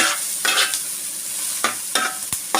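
Egg fried rice fries in a pan with vigorous stirring, a loud close sizzle punctuated by several sharp scraping strokes of the spatula.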